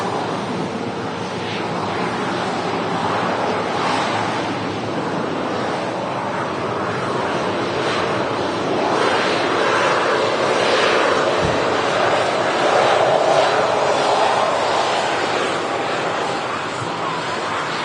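An airliner inbound from Skiathos on approach to Manchester Airport in the evening, a steady broadband jet roar that swells slightly midway, heard from a spotting position with wind buffeting the microphone throughout.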